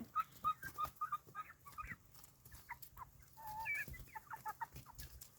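Several chickens cluck and chatter close by in quick, uneven bursts while eating banana stem, with short sharp pecking sounds mixed in and no voices.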